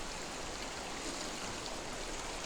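The Brock River rushes steadily nearby as a dense, continuous broadband roar of flowing water, with no voices over it.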